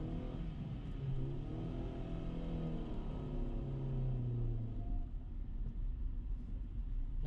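Car slowing with a downshift to second gear and turning right, heard from inside as a steady engine rumble whose pitch glides down and shifts, with no voices.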